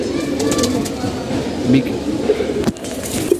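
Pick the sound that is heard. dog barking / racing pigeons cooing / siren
racing pigeons cooing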